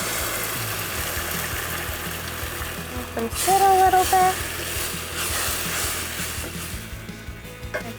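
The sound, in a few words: eggs sizzling in melted butter in a pan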